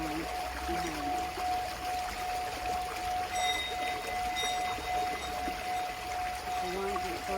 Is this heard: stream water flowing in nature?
yes